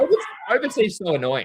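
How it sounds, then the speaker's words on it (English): A dog barks and whines excitedly indoors, short yelps running together into a drawn-out, wavering whine near the end, with someone talking over the commotion. "That's my dog going mental."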